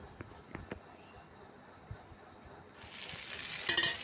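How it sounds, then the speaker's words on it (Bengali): Chopped vegetables hit a hot kadai and break into a bright, steady sizzle that swells near the end. Before that come a few faint knocks and thuds in a quiet kitchen. "আমি দিয়ে দিলাম কড়াইতে সব সবজিগুলো তো একটু ভাজা ভাজা হয়ে গেছে"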